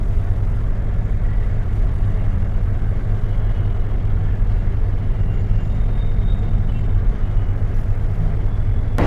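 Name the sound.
street traffic jam in India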